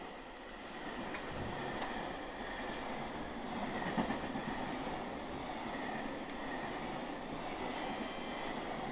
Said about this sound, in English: Much long freight cargo train go through in a Tokaido line.